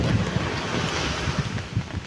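Ocean waves wash onto a beach under an overcast sky, a continuous rushing surf mixed with gusty wind buffeting the microphone, close and moderately loud.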